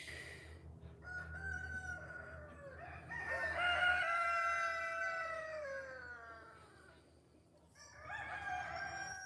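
Chickens and roosters kept in chicken houses with many birds roaming, a rooster crowing loudly in long drawn-out calls with clucking between, close and clear with no talk.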